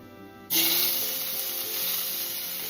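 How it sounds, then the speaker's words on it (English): Shallots dropped into a hot pan, where the same pan was just used to cook salmon, burst into a loud, steady sizzle after a brief quiet moment and keep hissing evenly close by. "now in the same pan, we're going to first put the shallots in."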